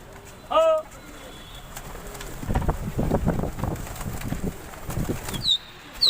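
Pigeons take off and flap away from a rooftop loft, a burst of dry wing beats in a steady rush with bird calls around it, fairly close, with faint voices and wind behind.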